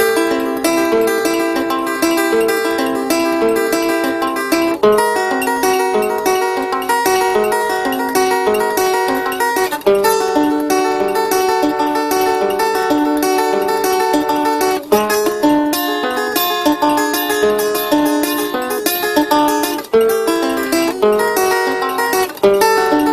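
Continuous picked notes and chords from a five-string banjo form a rolling Latin groove, dense and even, recorded close with no voices over the playing.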